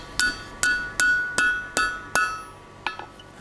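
A blacksmith's hammer strikes a hot iron tie bar over the anvil bick: six evenly spaced, ringing metallic blows, then two lighter taps, close and loud with nothing else around them.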